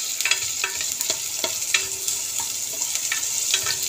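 Ginger and onion frying in oil for chicken tinola, a steady close sizzle broken by light clicks of a stirring spoon against the pan, with no speech.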